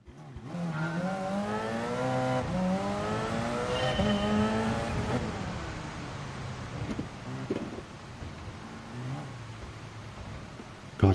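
A race car engine in a racing game at Spa revs hard in first gear, its pitch climbing and falling in long sweeps, then dropping to a rougher, quieter drone with a tire squeal near the end.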